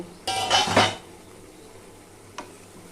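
A metal pot lid is lifted while pulao cooks, giving a short clattering scrape and rattle up close, followed by a single light clink a moment later in a quiet kitchen.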